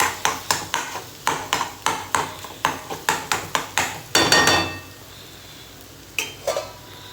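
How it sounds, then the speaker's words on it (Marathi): A spoon scrapes and taps rhythmically against a pan while mixing and breaking up egg bhurji, a quick steady series of clanks that builds into a burst of scraping, then a brief pause and a few final knocks. "आणि आता हे सगळं मिक्स करायचं हे एकजीव करून घ्यायचं सगळं फोडून घ्यायचं"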